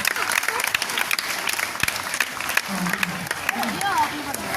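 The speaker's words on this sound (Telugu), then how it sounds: "దయచేసి చప్పట్లు కొట్టండి అందరూ" Audience applauding a yoga performance by sixth-class schoolgirls, dense sustained clapping from many hands with a voice speaking over it partway through.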